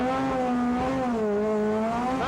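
A rallycross car on tarmac approaching a right-hander, its engine note loud and steady, dipping slightly and rising again, with no talk over it.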